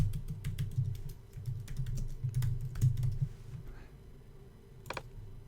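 Someone types on a computer keyboard: rapid, light key clicks in an uneven stream over a low steady hum, ending in a brief final cluster of keystrokes.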